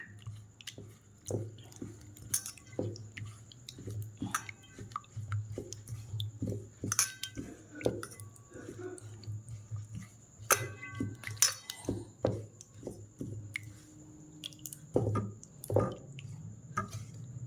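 Arrowroot and flour batter with water and salt being mixed by hand, wet squelching and dripping sounds in irregular bursts, close and fairly quiet, with a low steady hum underneath.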